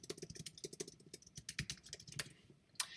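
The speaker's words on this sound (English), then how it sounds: "But I'll just type" Quick, uneven keystrokes clatter on a computer keyboard, close and fairly quiet, a steady run of clicks with a final firmer tap.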